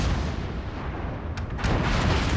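Naval guns firing from a warship in World of Warships, booming blasts over a dense, steady battle roar, with a couple of sharper reports near the end.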